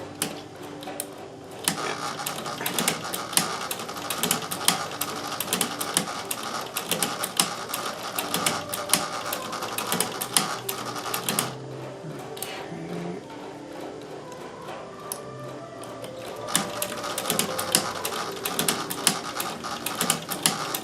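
A Singer 201K sewing machine fitted with a hemstitcher attachment stitches holes into fabric, a dense, steady rapid clatter of needle and mechanism running continuously with a brief pause midway.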